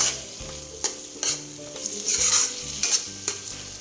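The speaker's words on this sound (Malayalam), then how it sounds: "എന്നിട്ട് നമുക്ക് ആദ്യം ഇത് നന്നായിട്ടൊന്ന് ഇളക്കിയിട്ട്" Chana masala with chickpeas being stirred in a pan, giving repeated scraping strokes and soft sizzling in a steady rhythm, close and moderately loud with no talking.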